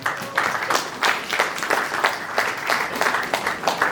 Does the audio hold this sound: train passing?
no